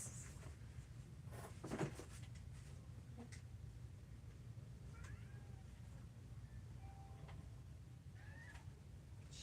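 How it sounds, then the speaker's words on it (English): A cat meows several times, short faint calls against a quiet, steady background hiss. "cat! Do you hear that?"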